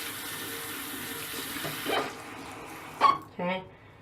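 Sink tap running steadily while makeup brushes are rinsed, a close hiss of water with splashes as brushes pass under the stream, a voice heard briefly.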